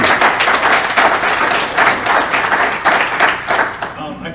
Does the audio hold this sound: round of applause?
yes